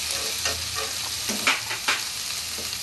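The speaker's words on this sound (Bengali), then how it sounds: "নারিকেলটা দিলাম, এই নারিকেলটাও একটু কষে নেব হালকা হালকা" Grated coconut sautés in a pan, a close, bright sizzle broken by several quick scraping strokes of a spatula across the bottom, loud and busy over about three seconds.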